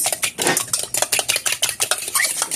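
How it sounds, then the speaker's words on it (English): Quiche egg mixture being beaten in a bowl with an improvised utensil instead of a whisk, a fast steady run of close, loud clattering taps and sloshing strokes, with no talking. "I'm whisking it with what I have"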